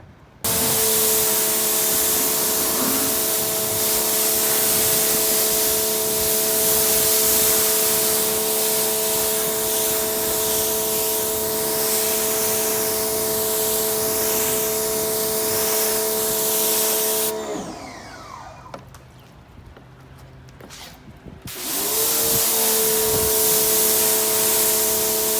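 Pressurized water sprays steadily onto a car hood with a loud hiss under a motor hum, cuts out for a few seconds, then starts again.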